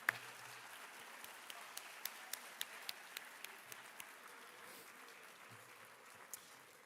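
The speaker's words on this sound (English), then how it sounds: "a big round of applause for all of our student athletes" Faint, distant applause from a high school athletic awards audience, a steady patter of claps with a few sharper individual claps standing out.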